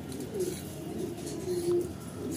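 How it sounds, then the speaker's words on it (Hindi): Pigeons cooing softly at close range, a few low, rounded coos in an uneven rhythm against a quiet background. "ये देखिए हमारे कबूतर, ये बाहर आ गया, नया कबूतर भी बाहर आ गया।"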